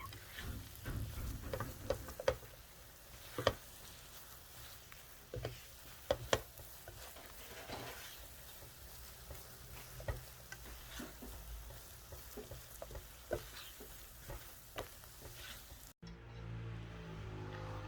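Churro dough stirred and cooked in a pan, with a soft continuous sizzle broken by irregular ticks and scrapes of the utensil, quiet and close, ending in a brief change of sound near the end.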